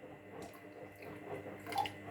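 A little water is poured into a yogurt dough for filled Turkish pogaca pastries, a faint, soft trickle and drip with a slightly louder splash near the end.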